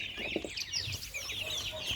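Young chickens, favorolles and mixed-breed chicks including a young cockerel, cluck and peep continuously at close range in a busy, chattering flock.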